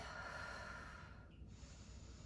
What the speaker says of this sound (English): Deep, long breaths in and out of the nose.